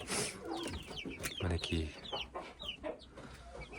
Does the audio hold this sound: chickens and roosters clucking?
yes